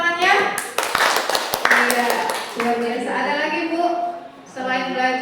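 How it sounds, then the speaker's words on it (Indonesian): Clapping hands from a small group of teachers at a school learning session, short bursts of claps mixed with speech and laughter, voices continuing over and after the clapping. "Boleh tepuk tangannya?"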